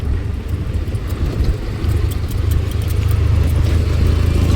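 Road traffic on the route from Mumbai to Lonavala: a continuous rumble of car engines and tyres that swells as vehicles pass nearby, with no talking.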